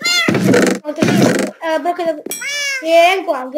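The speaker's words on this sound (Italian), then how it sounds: "questo è il mio gatto." A cat in a Minecraft-style game world meows several times in a quick series, clear and close, after a person briefly speaks.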